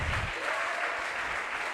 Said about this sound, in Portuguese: Aplauda o nome dele mais uma vez